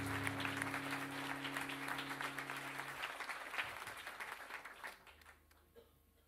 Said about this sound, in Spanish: un fuerte aplauso para nuestro querido compañero Alejandro